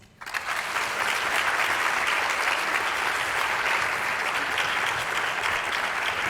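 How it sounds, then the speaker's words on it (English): An audience at a postdoc appreciation event breaks into sustained, dense applause that swells quickly and holds steady for several seconds. "Another round of applause."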